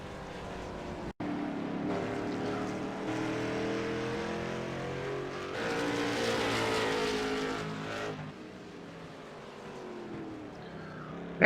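Race cars in a Friday night Bump 'n Run field roar past on Martinsville Speedway, engines rising and falling in pitch as the pack sweeps by, loud and close, with no talk.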